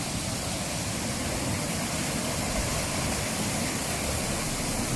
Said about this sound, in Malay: Bunyi deruan air dia memang agak kuat